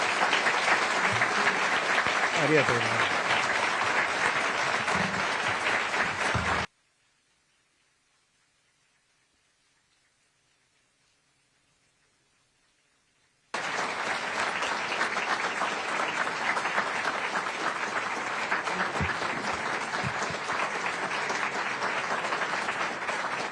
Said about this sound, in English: Let's give him one last round of applause and real thanks.